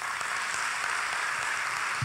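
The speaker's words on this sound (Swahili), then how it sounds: "naomba ujipigie makofi" Audience applause at a motivational talk, a steady broadband clatter of many hands clapping, filling the whole moment at an even level without letting up.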